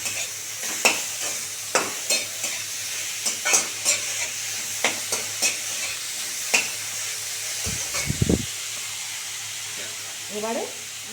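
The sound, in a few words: stirring grated papaya for plastic chutney in a pan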